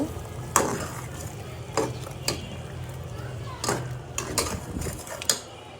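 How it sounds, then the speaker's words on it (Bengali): A spoon stirs biryani masala into tehari in a cooking pot, making a few sharp scraping strokes at irregular intervals over a low, steady sizzle. "এখান থেকে অর্ধেক প্যাকেট মশলা আমি দিয়ে দিচ্ছি, ভালো করে নাড়া দিয়ে দিব"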